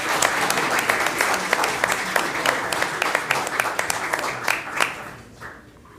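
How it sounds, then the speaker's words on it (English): A council meeting audience breaks into loud, dense applause, many hands clapping together for several seconds before the sound thins out and fades near the end. "Another round of applause for you, gentlemen."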